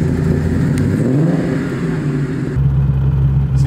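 Twin-turbo, supercharged 1003 whp Ford Mustang driving, its engine droning loud and close with a rising rev, then a shift to a deeper, heavier rumble.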